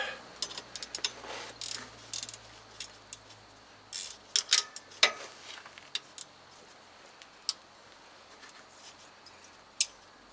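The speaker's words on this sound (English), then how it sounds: "Now I got socket wrench, gear wrench." Ratcheting socket wrench and gear wrench at work on a 2007 Toyota Tacoma 2.7 with a five-speed manual during a clutch job, giving scattered sharp metallic clicks and bursts, fairly quiet and with no talking.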